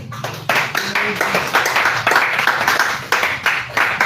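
A church congregation claps in praise, with hands beating in a loose, uneven rhythm of sharp claps and a few voices mixed in.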